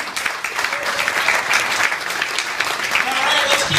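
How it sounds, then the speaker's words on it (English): Comedy club crowd applauding a featured comedian, a dense, steady wash of clapping with a few cheers and whoops mixed in, sustained at an even level throughout. "let's keep the clapping going for the headliner, Duchaine."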